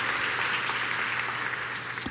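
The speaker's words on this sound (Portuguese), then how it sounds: "aquela salva de palmas sem economia" A church congregation applauds generously during a sermon, a dense, steady wash of many hands clapping close and loud throughout, with no voices over it.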